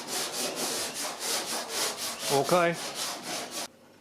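Sandpaper, 80 grit, rubbed over car bodywork in steady back-and-forth strokes, close and loud, with a short squeaky scrape near the end before the sound cuts out.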